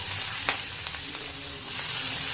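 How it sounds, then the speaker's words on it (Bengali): Whole cumin, asafoetida, dried red chillies and three fresh green chillies sizzle in hot white oil, a steady bright crackle with a few sharper pops, close and continuous. "এখানে ফোড়নে দিলাম জিরে, গোটা জিরে, হিং আর দুটো শুকনো লঙ্কা। এবারে 3টে কাঁচা লঙ্কা দিয়ে দিলাম"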